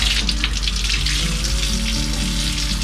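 A rack of lamb is rinsed under a running kitchen tap, the water streaming in a steady close hiss that splashes against the meat and sink throughout, without speech.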